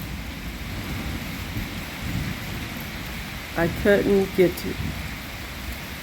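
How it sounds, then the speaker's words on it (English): Steady hiss of rain falling during a rain shower fills the whole stretch, with a person briefly speaking over it partway through. "You hear that rain?"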